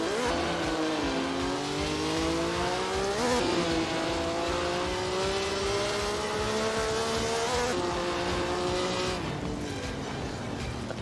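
Two 1955 Lancia Formula One cars in Assetto Corsa brake hard into the Monaco hairpin and rev back up, with engine tones dipping and rising over about eleven seconds, loud and continuous, including a sharp downshift blip partway through.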